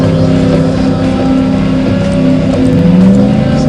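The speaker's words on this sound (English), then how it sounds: "stock car racing game." Stock car engine in a browser racing game, a loud sustained motor drone with rising and falling pitch as the car revs, steady and close, with no talking.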